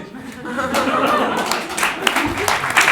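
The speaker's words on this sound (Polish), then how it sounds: "Duże brawa, proszę Państwa, powitajmy go tymi brawami" Scattered clapping from a cabaret audience builds into steady applause, with a few louder claps near the end and a voice talking underneath.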